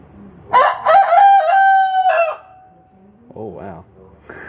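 A rooster crows loudly and close by, one long drawn-out call, followed by some softer clucking and brief background voices.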